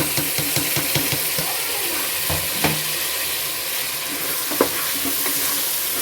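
Three chopped tomatoes go into a well-sautéed masala for a spicy chicken gravy, frying with a loud, continuous sizzle and hiss, while a spatula scrapes and clacks against the pan in uneven strokes.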